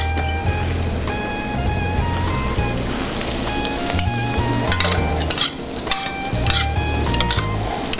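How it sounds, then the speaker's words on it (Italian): Metal cutlery tossing linguine in a pan while finishing the cooking in a restaurant kitchen, a steady run of clinks and scrapes with sizzling over a constant low kitchen hum. "adoperando posate non di legno è chiaro che il rumore certo si provoca"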